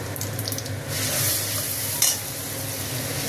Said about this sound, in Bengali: এবার এর মধ্যে মশলাটা দিয়ে দেবো। মশলাটা দিয়ে একটু হালকা ভেজে